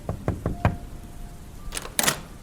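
Four sharp knocks on a house door, then a pause and two more scraping, rustling bursts, close and fairly loud in a quiet room.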